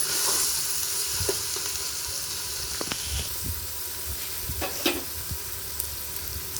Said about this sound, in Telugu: ఫస్ట్ కొంచెం టమాటా మధ్య వరకు ఒక 2 నిమిషాలు కలిపేసుకోండి.